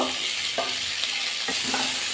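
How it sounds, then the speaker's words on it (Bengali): Cauliflower, carrot and eggs fry together in a pan, sending up a steady close sizzle with a couple of sharp stirring scrapes partway through and no speech. "এবার ডিমগুলো দিয়ে দেবো, দিয়ে একসাথে ভাজা করে নেব"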